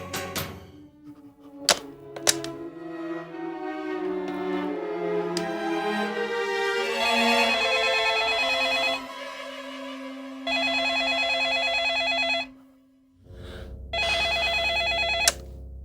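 A telephone rings in bursts of bright, repeated trilling tones with short gaps between them, loud and close, after a few sharp knocks and tones at the start.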